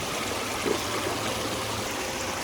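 Water rushing steadily through a dam overflow over placed, interlocked rocks, a constant close, even stream with no voices.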